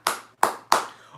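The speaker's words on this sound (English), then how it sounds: "Round of applause for Peter." Three sharp hand claps spaced evenly, crisp and close, each with a short decay and nothing else around them.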